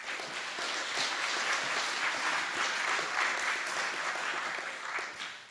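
A conference audience applauds to welcome the speaker Martin Gurri at a Crises of Democracy event. The clapping is steady and sustained from a full room, moderately loud and unbroken, with no voices over it.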